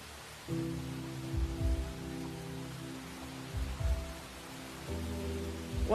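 Steady rain hiss pours through a video game cutscene, a soft continuous patter with low rumbling thumps and a faint droning tone underneath, moderately quiet and without talk.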